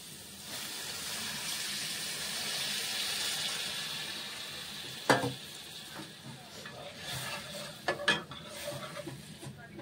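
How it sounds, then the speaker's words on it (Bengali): Dry fish curry sizzling steadily in a pan after water is poured in, a continuous hiss with a few sharp clanks of a spoon against the pan near the end. "এখন আমি জল দিয়ে দিচ্ছি।"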